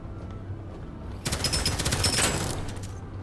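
Rapid automatic gunfire blasts enemies out of the air in the game Deadzone: Rogue, a loud dense burst of shots lasting about a second and a half over a steady game background.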